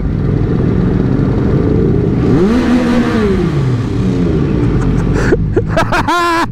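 Motorcycles ridden in a group on a ride through the Chianti countryside toward Livorno, engines droning steadily and close, with rising and falling revs as the bikes behind accelerate and pass, louder whining passes near the end.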